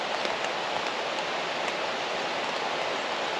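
Steady rain falling outdoors, a dense, even hiss of drops that holds without break, close and moderately loud, with no voices.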